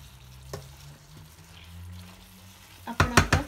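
Ridge gourd bhaji with toor dal sizzling softly in a pan, a faint steady fry broken by a clink, then a quick burst of loud scraping stir strokes at the end.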